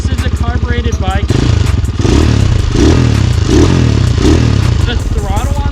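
A carbureted 250cc motorcycle engine, the Templar 250, cranks with a rapid starter whir, then catches and settles into a loud, close, steady idle with a few light blips, with someone talking over it.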